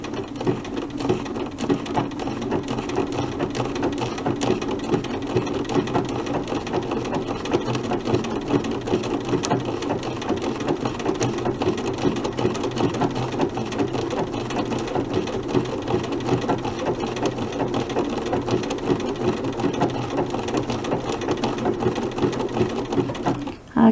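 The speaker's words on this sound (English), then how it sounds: "I'm going to switch to my buttonhole stitch" A sewing machine runs steadily through buttonhole appliqué stitches on a snowman quilt block, a continuous close whirring and rapid needle chatter at an even pace with no talking.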